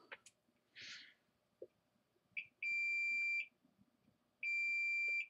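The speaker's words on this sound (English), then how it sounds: "We'll just test with the multimeter and prove that that line is short" A multimeter on continuity test gives two sustained steady beeps on a shorted power-supply line, each lasting about a second. Faint clicks and handling noises from the workbench are heard between the beeps, with no talking.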